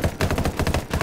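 Rapid automatic gunfire from a .417 rifle in the game Ghost Recon and Rainbow Six Siege crossover, a close, loud burst of about nine quick shots in steady rhythm.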